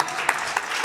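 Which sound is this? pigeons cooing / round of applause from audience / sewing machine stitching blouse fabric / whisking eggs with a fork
round of applause from audience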